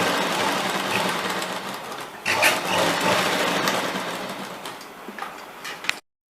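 A sewing machine stitches a kurti seam in a steady, close mechanical whir that runs continuously for several seconds before stopping abruptly.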